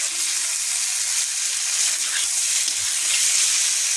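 Cauliflower and potato pieces fry in spiced oil with a steady, close, broadband sizzle that holds at even loudness throughout, with a few faint stirring touches and no talk.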